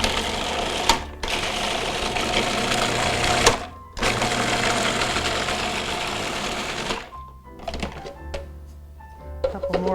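A blender whirls kefir guacamole in three loud, close pulses of grinding motor noise separated by brief silent gaps, followed by softer clatter as a voice talks.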